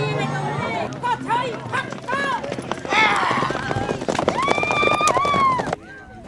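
Racing horses gallop with rapid hoofbeats and whinnies at the Tāpati Rapa Nui festival races on Easter Island, heard amid a noisy crowd and a commentator talking over them throughout.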